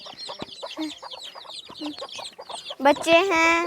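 Farm hens cluck in quick repeated bursts close by in a Pakistani village, with a brief louder squawk near the end; no talking.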